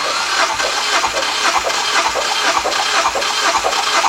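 A Mazda MX5 engine cranks on the starter during a compression test, giving a steady, rapid rhythmic chugging with hissy pulses throughout and no voices.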